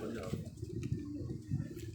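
Jaun sire pigeons kept on a rooftop loft coo in low, soft, repeated throaty pulses, fairly quiet and close, with faint background murmur.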